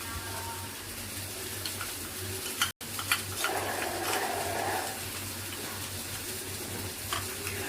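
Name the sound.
stirring coriander and cumin powder into a cup of milk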